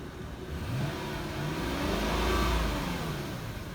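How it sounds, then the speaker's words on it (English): A Lexus 4.3 V8 rated at 290 horsepower, a garage-kept car, revs up from idle with the hood open, swelling into a steady, loud engine roar that holds before easing off slightly, with no talking. "let's get a little rev"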